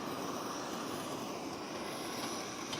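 A petrol camping stove burning with a powerful blue jet flame gives a steady, dense roaring hiss, close and continuous, with no speech.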